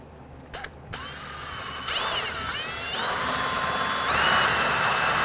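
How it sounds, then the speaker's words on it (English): A power drill spins a strip of 400 grit sandpaper inside a brake caliper bore on a 1999-2004 Jeep Grand Cherokee, whirring up in short bursts and then holding a steady, rising high-pitched whine, close and alone. "take a strip of sandpaper, it's a 400 grit, put it on a drill bit, and I'll actually feed this into this."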